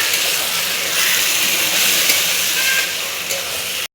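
Boiled chana dal tossed into a sizzling pan and stirred, a dense, loud, continuous frying hiss close by for a few seconds, with no talk.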